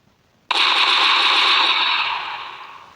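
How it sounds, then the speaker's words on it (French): FN Scar submachine gun firing in the Minecraft DesnoGuns mod, a sudden loud burst that sustains as a dense continuous rattle for about two seconds, then tapers off, with no talking. "ensuite on passe à un FN Scar. Alors c'est tout simplement une mitraillette."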